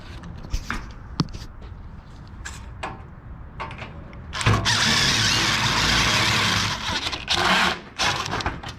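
A ratchet works a stubborn screw loose on a scrap radiator, sounding as bursts of close mechanical clicking and whirring with a longer dense stretch in the middle and short pauses between.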